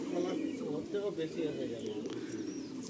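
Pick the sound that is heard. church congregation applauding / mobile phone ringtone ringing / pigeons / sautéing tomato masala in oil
pigeons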